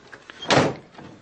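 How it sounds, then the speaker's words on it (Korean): A door is quickly shut into a classroom doorway, making a single firm thud with a bright burst midway through an otherwise quiet moment, with faint soft sounds before and after it. "곧 교실 문턱을 넘고 얼른 문을 닫았다."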